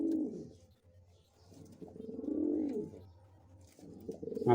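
Pigeons coo in a loft in repeated low, rolling phrases, loud and close, with brief pauses between calls and a fainter bird or two in the background.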